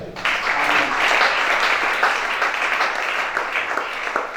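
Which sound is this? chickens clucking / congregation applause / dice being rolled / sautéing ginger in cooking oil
congregation applause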